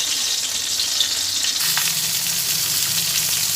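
Loud, continuous crackling sizzle of catla fish heads frying in hot oil, with a brief stirring scrape partway through and a low hum beneath.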